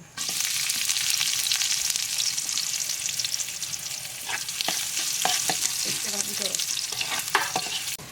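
Spice paste fries lightly in oil for a river fish curry: continuous close sizzling with frequent scraping and stirring strokes growing busier toward the end.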